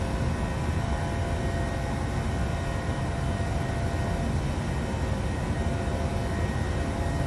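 Boeing 737-700 engines in Microsoft Flight Simulator, a steady broadband jet roar that holds constant at moderate level with no talking.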